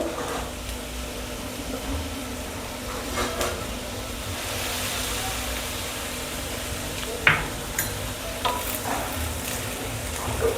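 Soya fried rice being stirred and mixed in a pan, a steady sizzle with scraping and occasional clinks of the spoon against the metal, continuing at a moderate, even level with no talking.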